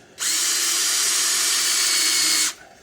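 A power drill runs at high speed to bore a first pilot hole while an adjustable rear endlink is fitted to a 2000–2020 GM SUV: one steady, loud, close whine lasting about two seconds, with a sharp start and stop.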